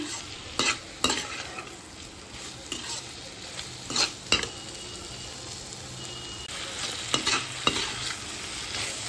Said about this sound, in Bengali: আলুগুলিও আমি সমস্ত মশলার সাথে ভালোভাবে কষিয়ে নিচ্ছি।